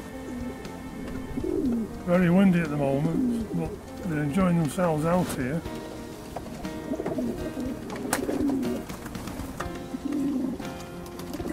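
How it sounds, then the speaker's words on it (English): Pigeons coo repeatedly in an outdoor aviary on a windy day, their soft rolling calls close and clustered in bursts, with a person talking over them at moderate level. "These are the pigeons that we've just videoed"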